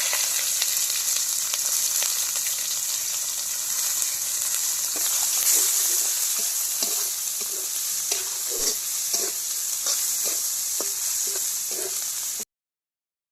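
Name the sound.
frying onion with cardamom, cinnamon and bay leaf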